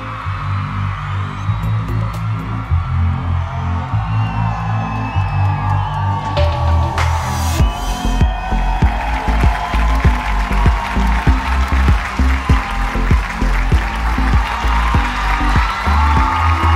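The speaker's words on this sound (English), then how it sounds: "A round of applause for our beautiful candidates in their evening gowns." At the Binibining Pilipinas USA 2017 coronation night, a pageant audience bursts into dense clapping and scattered cheers over a steady tonal hum, growing fuller partway through.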